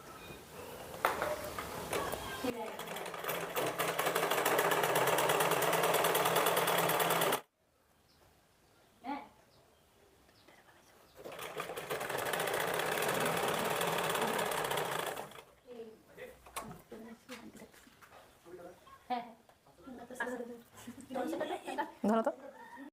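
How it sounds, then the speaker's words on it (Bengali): A sewing machine stitches a kurti in loud, steady mechanical runs of about five and eight seconds, separated by pauses where someone talks nearby. "এবার দ্বিতীয় দিকটা আবার সেলাই করো।"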